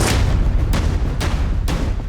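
Gunshots in a police shootout in Peru, four heavy booming reports spaced about half a second apart over dense, loud background rumble.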